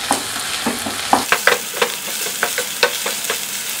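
Three onions sautéing with a tablespoon of ginger-garlic paste in a pan for spicy Hyderabadi chicken: a steady close sizzle broken by repeated spatula scrapes and taps.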